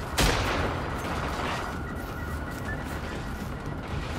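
A loud gunshot in Generation Zero while fighting robots, one sharp crack at the start followed by a long rumbling decay and steady background noise.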